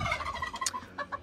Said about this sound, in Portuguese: o nosso piruzão ali, ó